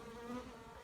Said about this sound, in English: We got a basket full of bees.